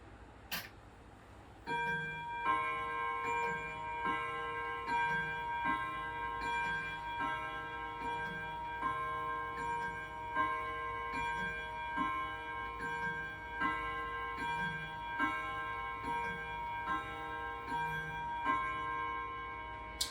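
A 196cm Hermle walnut grandfather clock with Bim Bam strike ticks in an even, steady rhythm, quiet and close, with a faint metallic ring lingering behind the ticks.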